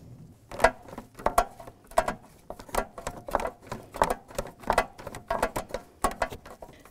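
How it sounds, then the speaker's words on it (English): A 7 mm socket on a ratchet wrench snugs a hose clamp on the intercooler air intake of a 2001-2007 Volvo V70, giving close, quiet, rapid ratcheting clicks in steady bursts. "I'm tightening up the clamp on the intercooler air intake, and that's a 7 millimeter socket"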